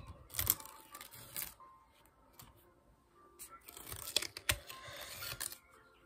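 Paper tears and peels away in crinkly bursts, close and fairly quiet, with short pauses between the ripping sounds.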